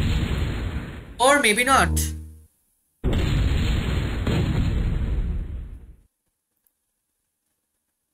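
Air gun attack in the MechQuest browser video game: a sharp burst with a warbling electronic tone, then a longer loud whooshing blast that stops abruptly, with a brief spoken remark over the start.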